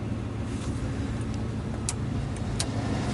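A 1987 Chevrolet Blazer truck engine idles steadily just after starting, a low continuous rumble with faint light ticks on top and no talking.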